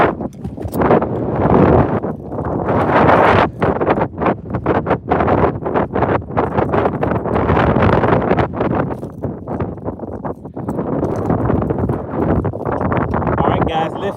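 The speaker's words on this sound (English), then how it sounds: "that storm the wind is already here, guys. I don't know if you guys can hear that wind." Strong gusting wind from an approaching storm buffeting the microphone outdoors on a bass fishing trip, a loud continuous roar and rumble that swells and eases throughout.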